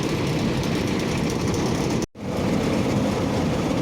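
A farm tractor drives between barley fields at harvest, its engine giving a loud, steady rumbling drone close by that cuts out for a moment and then resumes.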